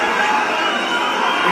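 A dense, steady roar of a large crowd cheering at a France versus South Africa fight, loud and continuous without breaks.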